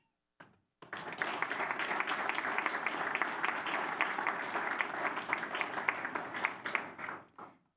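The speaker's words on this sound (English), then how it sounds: "please give a big round of applause to our President's Award recipients" A school board meeting audience gives a sustained round of applause for President's Award recipients, starting with a few claps, swelling into dense, steady clapping for several seconds, then tapering off.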